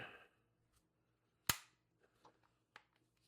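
An Umarex TR50 air-powered launcher, leaking from a faulty O-ring, fires once with a sharp, close crack, followed by a few faint clicks and handling taps.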